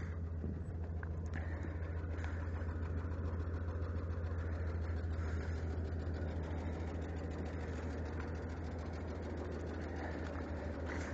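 A 1986 Ford F-150 truck engine idles steadily after a cold start, a constant low rumble with a faint ticking knock running evenly through the whole stretch, close by and with no talking.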